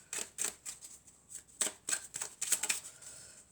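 Deck of oracle cards being shuffled and drawn by hand, with a series of quick, crisp riffling bursts and soft slaps at an irregular rhythm, close and fairly quiet.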